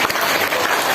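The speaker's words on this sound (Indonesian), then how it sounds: "Luar biasa, tepuk tangan." Children break into dense, loud clapping at a Ramadan school gathering, a steady wash of many small hands with a few voices mixed in.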